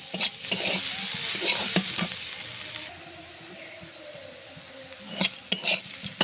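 Sliced bitter gourd (karela) sizzles in a pan with cumin powder while being stirred. A steady frying hiss runs throughout, broken by scraping stir strokes near the start and again toward the end.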